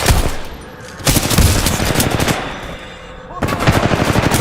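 Machine gun fire from the video game Titanfall 2 comes as loud, sustained rapid bursts with brief breaks between them, dense and close over the battle noise.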